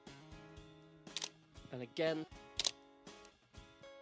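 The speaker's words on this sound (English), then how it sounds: "the sound of the shutter mirror slap is the nicest thing I've heard" An Olympus OM-1 film camera fires its shutter with a sharp mirror slap, a few crisp clicks heard among a man's speech.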